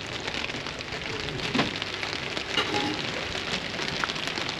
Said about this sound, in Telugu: వర్షం ఫుల్ అవుతుంది.